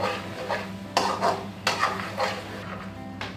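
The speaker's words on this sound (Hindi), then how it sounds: "अब हम इसको अच्छी तरह मिक्स कर लेंगे।" Chicken white handi being stirred in a pot, with a few distinct scraping strokes of a spoon against the metal and a light sizzle underneath, close and fairly loud, with no talking.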